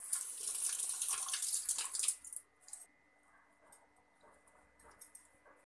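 Tap water gushes loudly over freshly strained chhena in a kitchen sink for about two seconds, then drops to a faint trickle and scattered drips.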